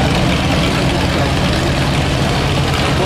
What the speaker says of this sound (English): Another working clothes Farmall M, built 1946, rated at 38 horsepower